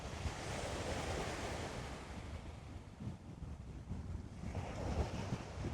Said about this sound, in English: Just listen to the waves for a second.